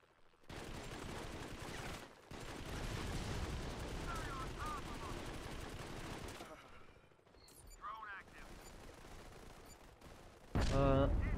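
Gunfire from the shooter game Modern Combat 5 on PC crackles as sustained rapid bursts across several seconds, followed by quieter scattered shots and a louder final burst near the end.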